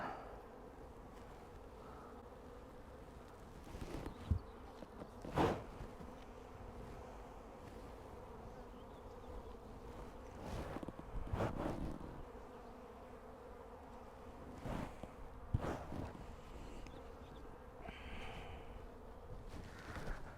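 A honeybee swarm at a mating apiary drones steadily but faintly, with single bees buzzing loudly past close by every few seconds.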